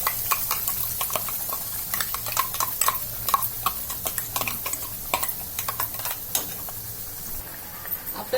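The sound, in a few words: ground masala paste frying in oil while stirred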